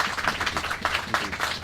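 An audience at an outdoor ceremony claps, a moderate burst of applause with distinct individual claps pulsing unevenly over under two seconds, with no voices over it.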